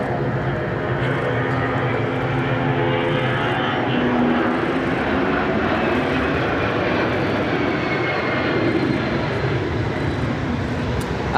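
An RAF C-17 transport aircraft flies over an airshow on the Gold Coast at Surfers Paradise. Its jet engines give a loud, sustained roar with a slowly shifting pitch that fills the whole stretch.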